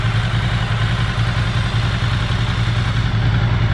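Ducati ST4-family motorcycle engine, close up during throttle body setup, running at a steady, slightly raised speed with an even, pulsing beat and no distinct revving bursts, with no talk.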